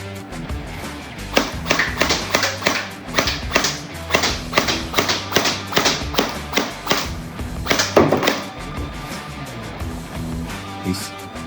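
An SRC SR-4 metal M4 gel blaster fires on single shot on a test range, a run of about a dozen sharp, evenly spaced clacks, close and loud, with no talking.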